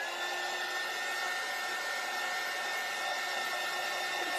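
A hair dryer blows steadily on a handmade Valentine's craft piece, a loud continuous whoosh that holds level for several seconds with no talking.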